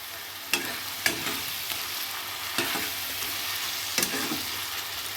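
Ginger garlic paste with bay leaves fries in a pot for a dhaba-style handi chicken masala: a steady close sizzle broken every second or so by sharp scrapes of stirring, with no talk.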